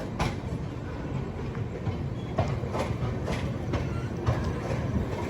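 A train from Jabalpur to Benares rolls past on the adjacent platform track, a steady loud rumble with rhythmic clickety-clack wheel beats throughout, heard from aboard the Navyug Express.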